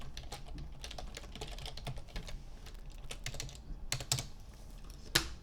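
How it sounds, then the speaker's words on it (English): Keys clatter on a computer keyboard as a keyword search is typed, a close, continuous run of quick taps with a few louder strokes near the end and no voices. "I type in jumbo Wonder clips, putting it in the front"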